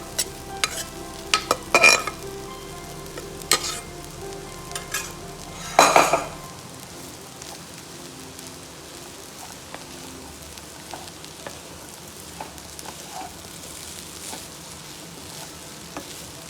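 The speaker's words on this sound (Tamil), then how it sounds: "மிக்ஸ் பண்ணி விட்டுட்டு இந்த டைத்தில் நம்ம வச்சுருக்கோம்ல ரைஸை, வேக வச்சுருக்கிற ரைஸை இப்போ இதோட சேர்த்துருவோம்." Chicken fried rice is stirred in a hot pan with cooked rice just added, a soft steady sizzle under repeated scraping and clinking of a utensil against the pan, busiest at first and then quieter.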